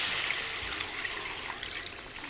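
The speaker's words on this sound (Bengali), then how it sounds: "আলু ভালো করে কষানো হয়ে গেছে এখন আমি এতে জল দিয়ে দেবো" Water is poured into a pan of well-sautéed potatoes for an egg curry, a steady splashing pour at moderate level with nothing else over it.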